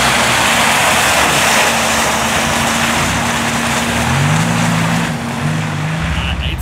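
A Dodge Viper driving in slippery wet weather, a steady close engine drone with road and tire noise throughout, pitch shifting slightly near the end.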